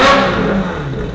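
A sports car with aftermarket manifolds and Larini cats revs hard with its exhaust valves open, a loud, close, throaty roar that peaks at once and eases slightly over about a second.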